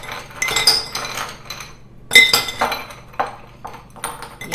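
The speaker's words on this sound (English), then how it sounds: "Now I'm going to add my ice cubes." Ice cubes dropped into a glass rimmed with celery salt for a Bloody Mary, several bright clinks and clatters in separate bursts, close and fairly loud.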